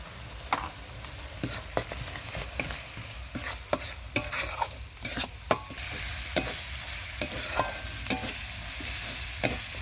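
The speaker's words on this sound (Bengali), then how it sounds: "বন্ধুরা, মশলা কষানো হয়ে গেছে।" Salt and turmeric spices sautéed in oil for a Bengali pangas fish kalia, a spoon scraping and stirring the pan in irregular clacks over a steady close sizzle, with no talking.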